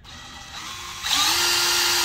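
Power drill spinning up a brass case trimmer with a chip catcher, a steady whine that rises sharply in pitch and loudness about halfway through, then holds a constant high buzzing drone, close and alone.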